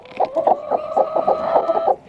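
A broody hen clucks close up in a rapid run of short, throaty clucks, loud and continuous for about two seconds.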